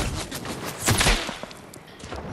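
Fortnite gunfire in the video game cracks in a short burst of rapid shots, loud and close, swelling to a peak then easing off with no speech over it.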